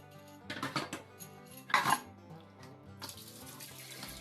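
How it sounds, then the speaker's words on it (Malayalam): Dishes washed under a running kitchen tap, bursts of splashing water with clinks of pots and cutlery, a loud splash near the middle and steadier flow toward the end, close and without speech. "അപ്പോൾ ഇനിയുള്ള ജോലി എന്ന് പറയുന്നത് പാത്രം കഴുകലാണ്"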